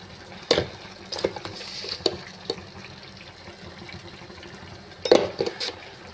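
A spoon scrapes and clinks in a pot as chicken curry is mixed with salt, turmeric and chili powder, a few sharp metallic knocks over a faint wet stirring background.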